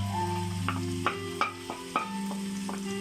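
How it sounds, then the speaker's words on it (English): Chopped tomatoes being stirred into spiced onions in a pan for egg curry, with a handful of distinct scraping strokes over steady background hum and a low sizzle, no talking. "we just will mix the tomatoes in the onion, which is already with spices"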